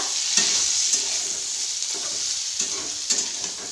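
Cauliflower and potatoes fry in a pan with a loud, continuous sizzle. Spatula scrapes and stirs come through at a roughly regular rhythm.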